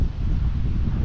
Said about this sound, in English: Quite windy and cool, though.